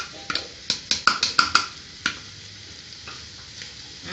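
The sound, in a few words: stirring boiled moong dal into pan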